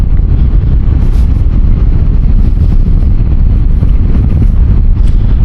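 Strong wind buffets the microphone during a motorbike ride along a mountain road in Kashmir, a loud, constant rushing roar with low rumble throughout and no talk.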